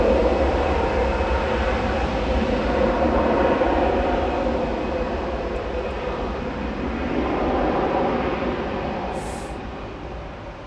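EasyJet Airbus A320 Classic jet departing Manchester Airport on a flight to Athens, a loud steady broadband engine roar that holds throughout and eases slightly midway, with no talk.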